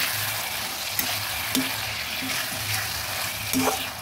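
Sliced tomatoes fry and crackle steadily in a pan, with a few sharp scraping clicks from stirring scattered through the continuous sizzle.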